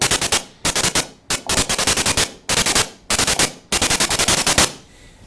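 A synthesizer's noise generator fired in rapid bursty rhythmic groups, harsh hissing hits like a chiptune Nintendo-style snare drum, loud and dry, each group of stutters followed by a short gap before the next.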